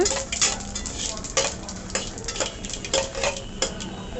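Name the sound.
chopped citron mixed into tempered spices in a pan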